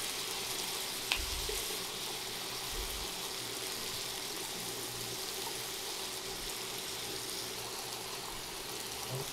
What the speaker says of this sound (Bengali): এটা কিন্তু হাই হিটেই রান্না করে নিতে হবে, সটে করে নিতে হবে।